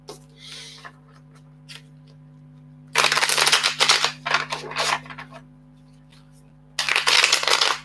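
Tarot cards are shuffled in several loud bursts of rapid riffling and slapping, separated by quiet stretches with a steady electrical hum and small soft taps.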